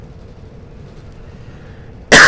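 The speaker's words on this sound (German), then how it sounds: "Ah, verdammter Husten." A single loud, close cough bursts out right at the end, after a stretch of low, steady rumble from a bus-driving simulator game.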